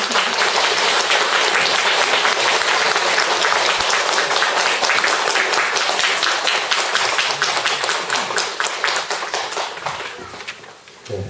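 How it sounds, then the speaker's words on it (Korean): An audience claps for an elder Won Buddhist minister after his dharma talk, a loud, dense round of applause that holds steady, then thins and tapers off near the end, with a few scattered claps at the close. "다시 한번 우리 마원정 원로경님께 박수 한번."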